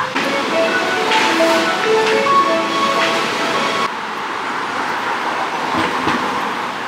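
Steady rumble and rattle of a moving Tokyo metro carriage at night, with a muffled recorded Japanese station announcement and quiet voices over the constant rolling noise.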